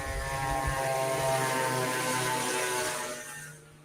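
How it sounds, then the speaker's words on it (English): Small, noisy motorbikes, made to sound like bigger bikes, roar by on a street in Thailand. A loud, steady engine drone with buzzing harmonics holds for several seconds, then fades as they pass. "Some people's noisy little motorbikes going by, trying to make a small motorbike sound like a big motorbike."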